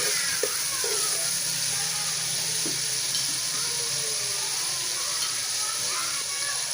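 Cumin seeds and cloves roast in hot oil for a zeera pulao, giving a steady, close sizzling hiss throughout with a few faint clinks of a spoon against the pan.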